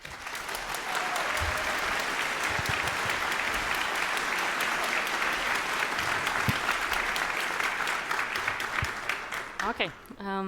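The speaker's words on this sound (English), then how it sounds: "Please give them a warm applause." Warm audience applause in a conference hall greeting speakers before a talk on EU digital identity systems, sustained dense clapping from a large crowd, loud and even, tapering near the end as a voice begins.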